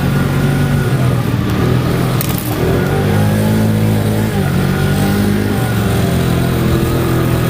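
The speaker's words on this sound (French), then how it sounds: "le camion va aussi lentement que moi pour éviter les nids de poule" A heavy vehicle's engine rumbles steadily at low speed, a deep continuous drone with slight shifts in pitch, close by and without talk.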